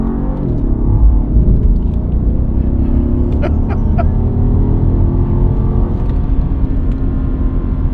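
A Mercedes S550 convertible engine revs and rumbles steadily as it accelerates in manual shift mode, a low continuous drone filling the whole clip with no talking.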